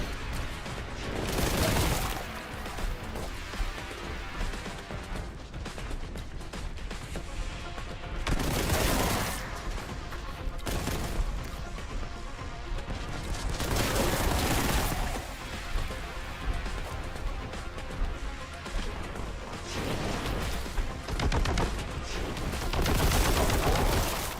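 Heavy gunfire and explosive blasts in Warhammer 40,000: Boltgun, a dense and loud barrage throughout with several bigger booming surges, no talk.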